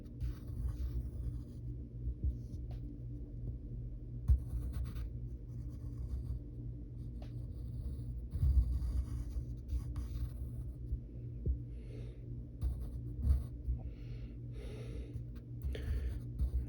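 A pencil sketches a cartoon figure on paper, soft close scratching strokes coming in short irregular bursts over a low background hum, with no talking.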